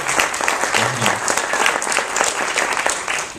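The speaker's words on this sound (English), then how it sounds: "a big round of applause for Lori and the team here" A panel audience gives a dense, steady round of applause, many hands clapping together at a close, even level throughout.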